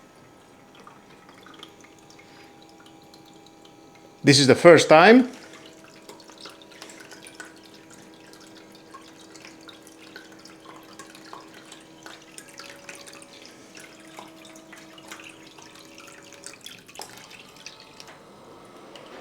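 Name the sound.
Silvercrest SEMK 105 C1 ice maker pumping water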